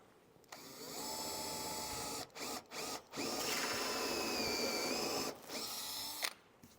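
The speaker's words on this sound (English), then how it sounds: "All right, so let's drill a hole." A power drill bores a hole with a tool set to a fixed depth by a collar and set screw, whining in long steady bursts broken by short pauses, loud and close with no speech.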